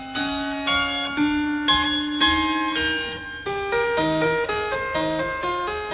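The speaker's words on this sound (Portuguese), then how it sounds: "Esta a campainha com que ele chamava os criados." A small antique hand bell once used by the Marquis of Pombal to summon his servants rings steadily in a repeating series of clear, resonant strikes, each note decaying into the next, loud and close with no talk.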